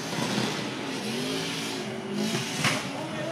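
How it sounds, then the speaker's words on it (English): Turbocharged BMW drift car at the FIA Intercontinental Drifting Cup, engine revving and wailing with a rising and falling tone over loud crowd-like wash, fairly distant and continuous. "Big, huge turbo making a lot of noise in this BMW."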